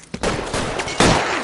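Gunshots ring out in a police shootout in the game LA Noire, a few sharp loud cracks in quick irregular succession, the last blast the heaviest.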